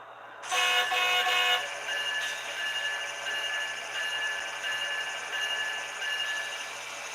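A model train hauling a Schnabel car runs steadily with a sharp horn blast near the start, then a continuous rolling hum with faint tonal whine throughout.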